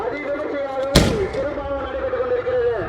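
A single sharp firecracker burst at a Gangaiamman temple festival, loud and close, over a steady droning tone from festival music and crowd noise.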